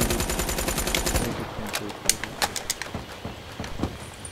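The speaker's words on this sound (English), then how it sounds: "Who's shooting me?" Rapid automatic gunfire rattles in a Black Ops 3 multiplayer match, starting as a dense burst and then breaking into scattered sharp single shots and impacts.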